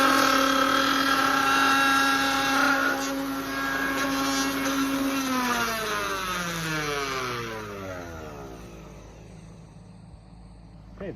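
A router cutting out a dovetail joint in a timber-framing beam whines at a high, steady pitch, then spins down with a falling tone as the motor is switched off and coasts to a stop.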